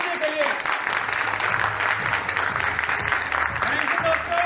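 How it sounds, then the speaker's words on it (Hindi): A seminar audience at a Hindi-language MLM business meeting bursts into continuous, vigorous clapping that holds at an even level throughout, with a low hum and some tonal sound mixed beneath it. "जबरदस्त तालियां होनी चाहिए"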